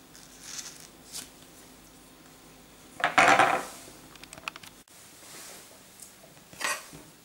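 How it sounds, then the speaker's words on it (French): Fresh cheese cut in half with a knife on a board, a short, close knock and scrape in the middle, with faint light clatter before and after. "Je vais commencer par séparer mon fromage en deux."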